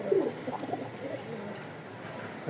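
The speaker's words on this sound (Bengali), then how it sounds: "দেখেন কি সুন্দর ডাকতেছে" Soft, low pigeon coos come at intervals over a quiet background, close but gentle.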